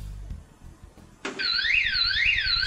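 A house alarm goes off abruptly after a few low muffled knocks and rustles, its loud electronic siren warbling up and down steadily and close by.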